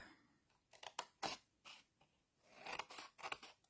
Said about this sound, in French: Je coupe droit et après sur la petite languette, je viens découper légèrement en biais.